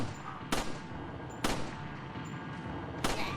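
Gunfire in the video game Resident Evil 4, three loud separate shots spaced about a second apart, each with a short decaying echo over a low background rumble.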